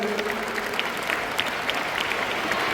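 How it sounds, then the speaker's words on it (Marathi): An audience at a seminar on saint literature and children's values applauds for Nilam Tai, steady dense clapping that holds throughout the short stretch with no voices over it. "याकरता आपण सगळे मिळून त्यांच्याकरता जोरदार टाळ्या वाजवूयात"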